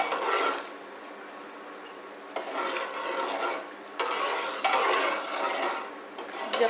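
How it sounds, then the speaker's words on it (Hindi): A spoon stirs kheer, a rice pudding cooking in milk in a pot, with close, repeated scraping swishes in a slow, uneven rhythm. "चम्मच को ऐसे ही चलाते रहना है।"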